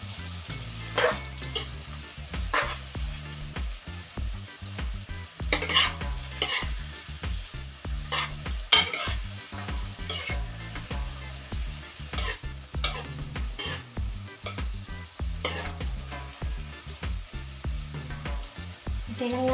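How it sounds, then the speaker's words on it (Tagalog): Mushroom, white onion and garlic sautéing in a pan for a creamy chicken stew, a steady loud sizzle broken by frequent sharp scrapes and clatters of stirring throughout, with no voices. "Hintayin lang natin ng 2 minuto mga lalabs na maluto yung ating mushroom, yung white onion, din yung ating garlic"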